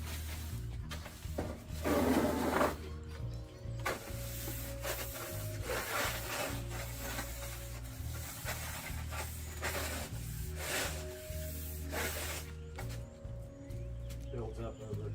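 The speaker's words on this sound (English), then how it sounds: "Some scrubbing here. There's all kinds of dirt between these soffit ridges." Scrubbing against dirt packed between the ridges of a soffit, a steady rubbing rasp that repeats in bursts over a low constant hum, with some spoken voice mixed in.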